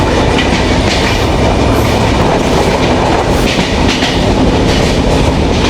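The Benapole Express train runs from Faridpur to Dhaka, heard from inside the carriage as a loud, continuous rumble with steady rhythmic clickety-clack of wheels over rail joints, with no talking.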